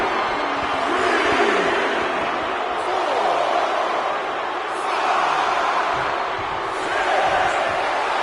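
A packed WWE WrestleMania Night 2 wrestling arena crowd roars and cheers in a steady, dense wash that swells slightly at moments, with no clear voices standing out.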